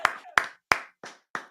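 Five slow, evenly spaced hand claps ring out one at a time, close and distinct, with short pauses between them and no other sound.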